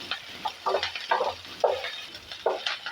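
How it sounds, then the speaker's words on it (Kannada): Okra fries in a pan with green chillies and curry leaves, a low sizzle under several scraping stirs of a spatula at irregular intervals, close by with no talking. "ಹಾಕಿ ಚೆನ್ನಾಗಿ ಇದನ್ನು ನಾವು ಫ್ರೈ ಮಾಡ್ಕೊಳ್ಳೋಣ"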